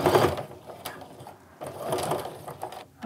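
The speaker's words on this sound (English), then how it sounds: "I'm gonna sew a little more. I'm gonna reinforce some more." A sewing machine runs in short bursts, stitching back and forth to reinforce seams on a fabric wristlet made from fat-eighth scraps, loud and close with brief pauses between runs.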